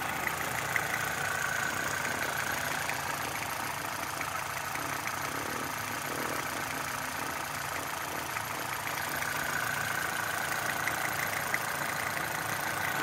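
A 2003 Toyota Celica GT-S with a 6-speed manual idles smoothly, a steady, even engine hum recorded close by under the open hood, continuous and unbroken with no voices.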